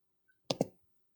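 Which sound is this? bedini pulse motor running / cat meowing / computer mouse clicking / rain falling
computer mouse clicking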